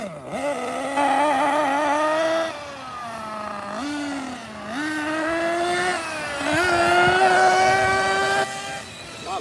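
A Team LOSI 8IGHT 1/8-scale RC buggy is driven fast, its electric-sounding whine rising and falling in pitch as it accelerates and brakes, loud and close for about nine seconds with no talk.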